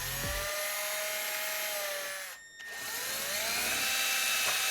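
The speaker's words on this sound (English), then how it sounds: "Now that we drilled the first hole" A power drill whines steadily while boring a bolt hole for a KTM 690 Adventure kit, its pitch dipping briefly as it bogs and then winding back up, loud and close with no talk.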